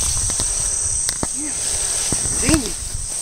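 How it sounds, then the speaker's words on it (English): Insects buzz and chirp steadily outdoors on a disc golf course, a constant high drone with a few clicks and rustles, while someone speaks over it. "There's fucking bugs everywhere around here."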